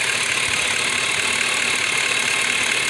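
A 2005 Chevrolet Suburban with a 5.3-liter V8 idles steadily up close, giving a continuous, even engine drone with no change in pitch and no talking.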